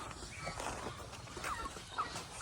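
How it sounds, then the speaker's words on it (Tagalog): Chickens clucking and calling on a farm with goats and pigs, over a steady murmur of farmyard noise, with a few sharper calls standing out near the end. "ito yung mga manok natin."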